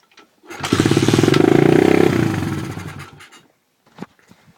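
A pit bike engine coughs into life and revs loudly for about two seconds before settling to a lower running note that fades, followed by a few faint knocks.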